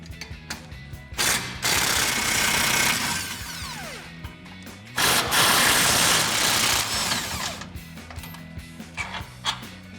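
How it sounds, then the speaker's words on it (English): A ratchet with a 21mm socket works loose the shock absorber bolts on a Jeep Gladiator JT, two loud bursts of rapid clicking ratcheting separated by a pause, with faint clanks of tools around them and no talking. "So I'll grab a 21mm socket and a 21mm wrench to get these out."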